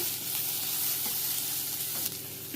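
Green chillies and other ingredients frying in a pan for mutton gravy, a constant loud sizzle with faint stirring scrapes across the short stretch.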